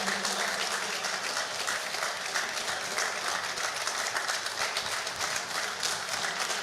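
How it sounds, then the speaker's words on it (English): Audience applause at the 2024 Midwest Achievers Award ceremony for an Emerging Leader of the Year recipient, dense steady clapping from a crowd that holds at an even level throughout with no pause. "Give him a round of applause."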